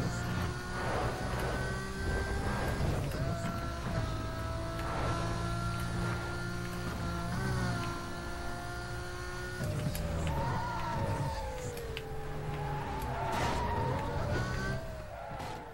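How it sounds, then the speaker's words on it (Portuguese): Car engine in the racing video game Need for Speed: Most Wanted, a loud continuous revving whine rising and falling through gear shifts, with steady game sounds beneath and no speech. "Olha o barulho desse motor, velho."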